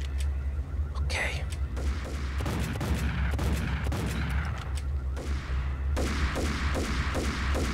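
Gunfire in the video game Max Payne: repeated sharp shots and bursts over a continuous low rumble of game noise, with faint voices underneath.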